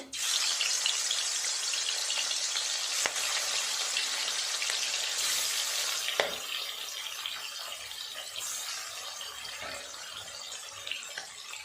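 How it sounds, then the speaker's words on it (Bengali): Pieces of silver carp fry in hot oil in a wok, a steady, close hiss of sizzling that stays loud and eases slightly toward the end, with a few sharp crackles. "তেল গরম হয়ে গেছে, দিয়ে দেব মাছ।"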